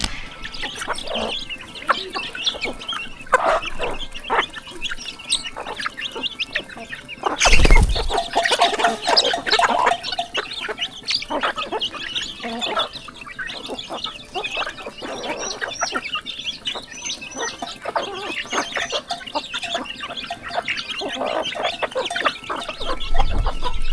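Village chickens cluck and call close by in a small hillside settlement, with steady overlapping clucks, a brief burst of flapping wings and scattered rooster notes throughout.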